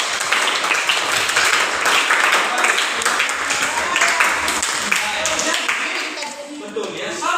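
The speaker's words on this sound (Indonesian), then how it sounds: "Kita beri tepuk tangan dulu." A classroom of students claps in a lively burst of applause that goes on for several seconds, with a voice speaking over it as the clapping tapers off.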